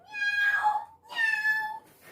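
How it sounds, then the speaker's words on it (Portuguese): A cat meows twice, close and fairly clear, each a drawn-out tonal call of under a second with a short pause between. "Olha quem apareceu por aqui, galera, um gato!"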